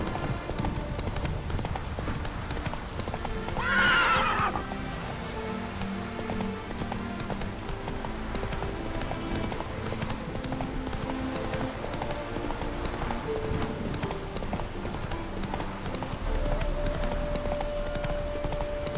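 Roach the horse galloping in The Witcher 3, a steady rhythmic clip-clop of hooves running throughout with a brief whinny early on over background game ambience.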